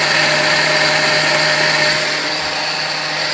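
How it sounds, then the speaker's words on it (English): A blender runs at full power on an ice drink, a loud continuous whirring roar that keeps an even pitch and eases slightly toward the end. "You should probably put the lid on before you blend it."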